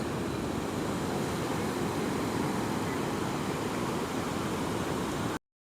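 Sea waves on Betalbatim Beach in Goa wash in as a continuous loud roar of surf, steady and broadband, ending with an abrupt cut.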